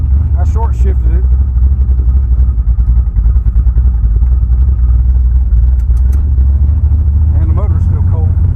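A 1974 Chevy Nova with a cold motor and a 3.42 gear swap roars loudly and steadily up close as it accelerates, with brief shifts breaking the rumble and faint voices under the engine.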